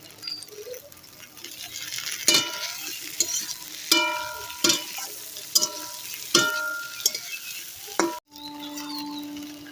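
Green chillies frying in a pan for a thin summer vegetable curry, a low sizzle broken by several sharp metallic clinks and taps of a spoon, alone.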